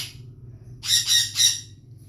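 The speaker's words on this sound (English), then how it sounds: "Oh, there's that one squawking." Loud, close bird squawks in a quick run of three harsh calls, with a fainter call at the start over a low background hum.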